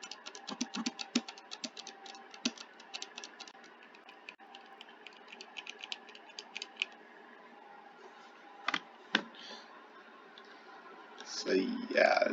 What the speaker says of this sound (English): it's a Ducky 1-2 Mini with red switches